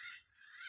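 Starlings calling from fruiting trees, a steady run of harsh, cawing calls that carry on without a break for under a second, fairly faint and with no one talking.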